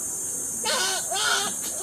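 A voice imitates a goat, giving two wavering, nasal bleats over a steady background hiss.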